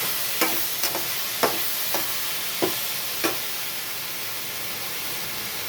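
Chopped tomatoes sauté in a pan for a Chettinad mixed-vegetable tamarind curry. A constant close sizzling hiss is broken by a handful of sharp spatula taps in the first half.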